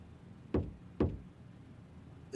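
Two sharp knocks on a door, spaced about half a second apart, fairly close and clear against a quiet room, with a faint third tap at the end.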